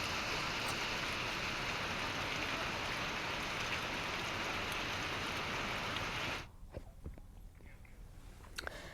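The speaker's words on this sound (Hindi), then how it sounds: "साथ ही बारिश हो भी रही है।" Steady, dense hiss of rain falling in Uttarkashi, Uttarakhand, loud and continuous for several seconds before cutting off abruptly to a much quieter background with faint scattered drips.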